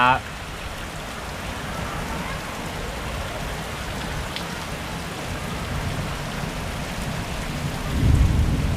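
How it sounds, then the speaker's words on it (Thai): Heavy rain pours down steadily at an evening forest resort in Kanchanaburi's high jungle, with low rumbling thunder throughout that swells louder near the end; someone speaks briefly in the background. "ฝนตกละ โอ้โหตกแรงมากครับผม"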